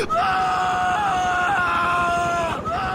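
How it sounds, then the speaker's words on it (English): A ragdolling character in the video game GTA 4 lets out a long, sustained male scream that wavers in pitch, loud and continuous, briefly breaking before resuming. "And then it would do that thing sometimes where he'd run out of scream"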